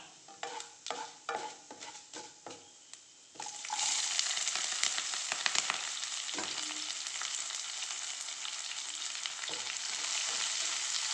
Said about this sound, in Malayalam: കടുക് പൊട്ടി ഉഴുന്നിട്ട് കൊടുത്ത്. അപ്പോൾ ഇനി നമുക്ക് സവാള, പച്ചമുളക് ഇതെല്ലാം ഇട്ട് കൊടുക്കാം.